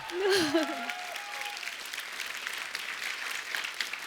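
Studio audience on The Kapil Sharma Show breaks into applause, a short burst of clapping swelling briefly at the start, then continuing as a softer, steady patter while a voice calls out over it.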